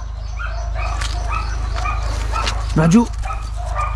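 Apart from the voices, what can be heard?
German shorthaired pointer dog barking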